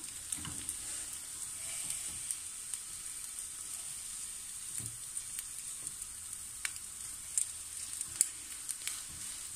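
An egg cooking in a pot gives a soft, steady sizzle with scattered small pops and crackles, fairly quiet and with no voices.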